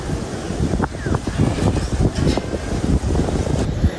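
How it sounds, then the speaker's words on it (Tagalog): Steady wind on a rooftop in drizzly weather buffets the microphone with low rumbling gusts throughout, broad and noisy with no voices. "Malakas po ang hangin ngayon."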